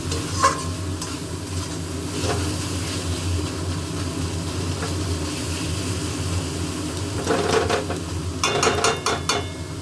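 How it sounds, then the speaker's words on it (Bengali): Food being fried and stirred in a pan makes a continuous sizzle with repeated scraping strokes. The scraping clusters near the end and no voice is heard. "অনেকক্ষণ ভাজবো, এরকমভাবে নেড়েই যাব"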